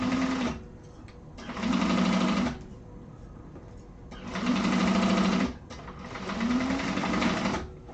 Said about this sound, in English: So let's go ahead and sew that up. Just with an 1/8 of an inch seam allowance.